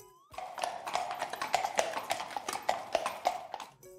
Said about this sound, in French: ce sont les sabots d'un cheval.